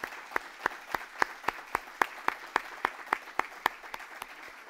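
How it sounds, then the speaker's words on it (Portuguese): A small gathering claps for their parish priest: a single steady hand-clapping rhythm of sharp, evenly spaced claps, fairly quiet and close, with no voices. "peço aqui uma salva de palmas para o nosso pároco"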